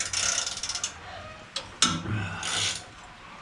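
A ratchet wrench loosens a bolt on a baler, a quick run of close clicking at the start, then a sharp clank and some scraping metal handling.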